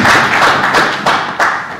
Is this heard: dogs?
no